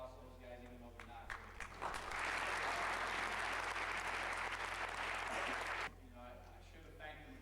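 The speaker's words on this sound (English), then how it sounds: "they owe a big round of applause to those guys" A banquet crowd at a year-end football dinner breaks into a round of applause, a broad burst of many hands clapping that swells after a speaker's voice, holds for about four seconds, then stops as talk resumes.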